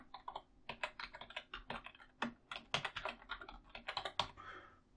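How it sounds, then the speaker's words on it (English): Rapid, uneven typing on a computer keyboard while entering a description in Azure settings, with dense clusters of close, crisp key clicks throughout and no speech. "I'll type in a description."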